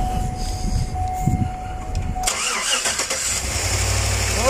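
A Chevrolet Tahoe engine, previously misfiring, cranks and catches at about two seconds, then settles into a steady, even idle with no stumbles, close and loud.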